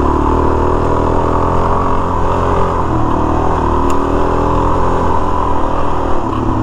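Suzuki DRZ400S dual sport motorcycle being ridden, its engine droning steadily and loud throughout with a dense rumble and no clear pauses, no voices.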